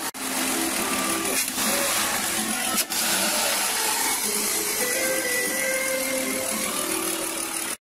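A car engine, checked while a MAF sensor fault is diagnosed, revs and holds at high RPM in a sustained loud drone that stays up for nearly the whole stretch, with a brief dip midway, then cuts off at the end.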